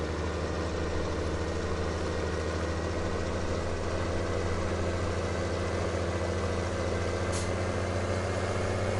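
A tractor engine idles steadily in the Farming Simulator video game, a low continuous rumble that holds unchanged and alone for about nine seconds with no talk over it.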